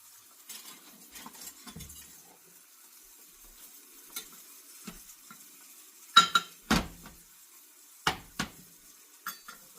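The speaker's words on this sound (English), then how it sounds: "I'm going to fry this and try to get it nice and crispy on both sides." A flounder fillet frying in a pan for an Asian-inspired dish, with a faint sizzle beneath occasional clinks and knocks of utensils against the pan, close, several sharper taps near the end.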